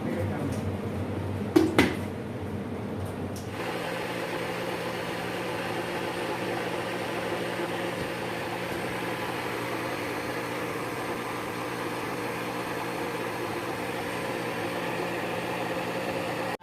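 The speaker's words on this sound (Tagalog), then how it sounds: "Tuloy-tuloy lang ang blender po." After a brief clatter, a blender motor grinding rice for dosa batter runs in a steady, continuous grinding whir, close by and unbroken.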